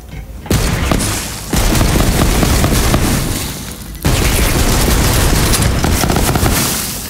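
Rapid bursts of Torg rifle fire in Borderlands 3, loud and dense, in sustained volleys broken by brief pauses, with no talking.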